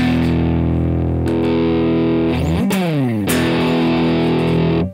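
An electric guitar runs through a plexi amp simulation with a vintage cabinet, giving loud distorted sustained chords with a quick sliding bend in the middle, then ringing on before cutting off.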